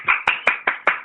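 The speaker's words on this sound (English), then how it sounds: "I'm going to cue up some claps" A cued-up applause sound effect gives about six crisp, evenly spaced hand claps in quick succession, loud and close with no other sound.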